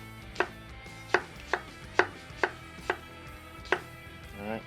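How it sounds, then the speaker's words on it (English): A knife thinly slicing apples on a cutting board for a pancake topping, with seven or eight crisp, evenly spaced chops standing out clearly, up close with no voices. "We're just gonna come in here, thinly slice these apples."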